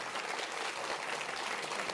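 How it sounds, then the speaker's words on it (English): Brief, steady applause from a small audience at a food tasting event, continuous clapping with no voices over it. "Can we please give Ricky a round of applause?"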